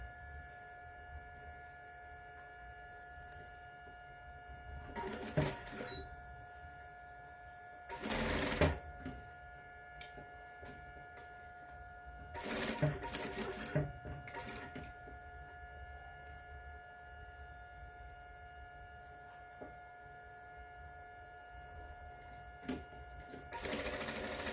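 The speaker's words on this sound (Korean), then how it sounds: "박음질 쭉 연결해서 진행해 볼게요" A sewing machine runs in short bursts while stitching a fabric bag seam at 1 cm allowance, quick buzzing runs separated by quiet pauses over a faint background hum.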